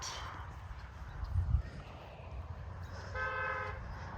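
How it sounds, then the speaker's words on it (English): A car horn toots briefly in the distance near a suburban house with a pool, a short tonal blast rising over low outdoor background noise. "Somebody's honking there."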